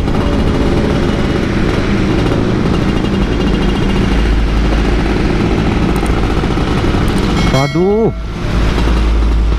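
A 2002 Yamaha F1ZR two-stroke motorcycle engine runs continuously while riding, a loud steady droning buzz with wind noise, and a short rev change near the end. A rider speaks briefly.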